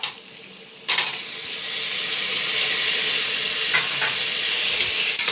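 Tomatoes drop into golden fried onions for a mushroom biryani, setting off a sudden loud burst of sizzling and steam hiss that settles into a continuous strong fry.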